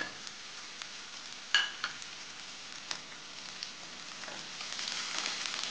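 Onions with green chili, ginger garlic paste and curry leaves sautéing in a pan for a spicy mushroom masala, a soft, steady sizzle with a few light clicks of stirring, fairly faint throughout.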